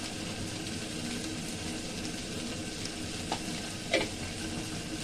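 Chicken momo filling with chili powder stirred in a frying pan, a steady sizzling crackle with a couple of brief scraping knocks of the spoon near the end.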